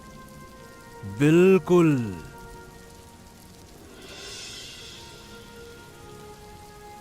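Steady heavy rain pours down on a taro field throughout, with a short spoken word breaking in near the start.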